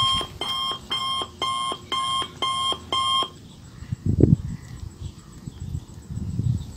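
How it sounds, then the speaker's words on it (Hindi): A phone rings indoors with repeated loud electronic beeping bursts in an even rhythm for about three seconds, then stops, leaving room noise and a few faint thumps. "फोन बजुचे"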